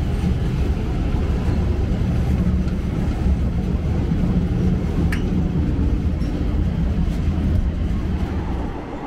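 A train rumbles along the Death Railway beside the Kwai Yai River in Thailand, a loud continuous low roar with rattling carriages and occasional faint squeaks, steady throughout.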